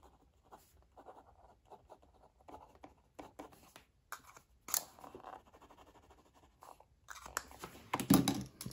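Pens, including a gel pen and a Lamy rollerball, squiggling on diary paper: close, faint scratchy strokes in short irregular bursts, growing busier and louder toward the end.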